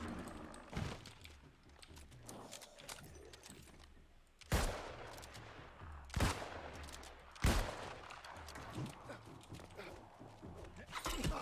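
Video game gunfire, several sharp shots spaced a second or two apart over a low background murmur of game sound.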